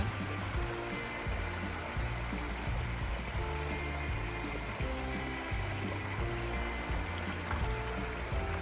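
A small mountain waterfall and water slide on a trail pours with a steady rushing splash, close and continuous, with a few irregular gurgles and knocks in the flow.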